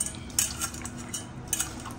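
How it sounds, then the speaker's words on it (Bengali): A spoon clinks and scrapes against a bowl while raw egg is beaten with green chilli, turmeric and salt, quick light taps and stirring strokes close up, with no talking. "এবার ডিমটা খুব ভালো করে মাখিয়ে নিতে হবে"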